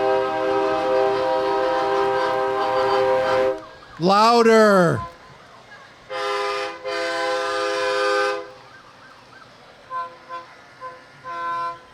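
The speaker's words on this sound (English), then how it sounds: "I want all of your trucks to be honking your horn" Trucks in a Fourth of July parade blast their air horns in loud, sustained blares, one with a rising and falling wail, broken by short gaps and a few brief later toots, with a voice speaking at the start.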